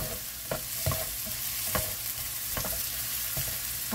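Onions sizzle steadily in a hot pan while being cooked for kimchi fried rice, a constant frying hiss punctuated by several sharp scrapes and clacks of a utensil stirring against the pan.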